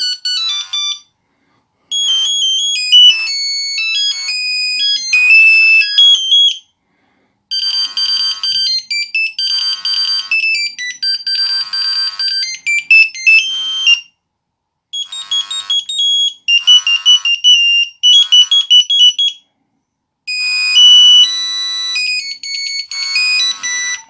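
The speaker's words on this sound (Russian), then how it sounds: "вот такие вот мелодии в данном телефоне" A Nokia 7110 mobile phone plays a series of bright, beeping polyphonic-style ringtone melodies, loud and close, each tune running several seconds and separated by short silences.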